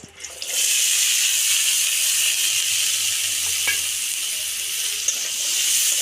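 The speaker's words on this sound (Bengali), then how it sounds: "সর্ষে তেল আর গাজরটা ভেজে নিচ্ছি" Carrots frying in mustard oil give a steady, bright sizzle throughout, loud and close, with a faint stir or scrape partway through and no voices.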